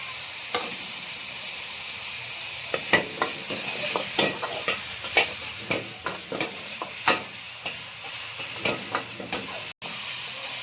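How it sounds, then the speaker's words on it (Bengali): Vegetables and chopped tomato sautéing in a pan for spring rolls, a steady sizzle with repeated scraping stirs of a spatula, close and clear, no talking. "দু মিনিট সতে করার পর এবারে টমেটো কুচিটা দিয়ে দিলাম।"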